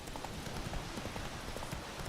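Galloping horse hooves from the video game Witcher 3 give a fast, continuous clip-clop rhythm under a dense wash of game ambience.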